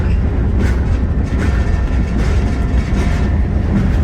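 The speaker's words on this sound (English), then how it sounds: "A lot of new engineers bang the heck out of the train like that." A freight train hauling cyanide tank cars through Illinois rumbles heavily as it gets under way, a loud, continuous low roar with faint clanking from the rail cars, heard up close from on board.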